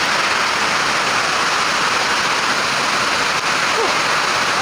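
Moramo waterfall in South Konawe, a steady, loud broadband rush of falling water filling the whole clip with no break.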